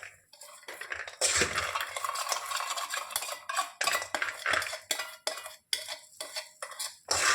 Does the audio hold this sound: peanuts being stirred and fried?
yes